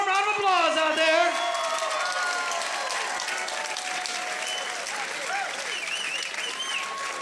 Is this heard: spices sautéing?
no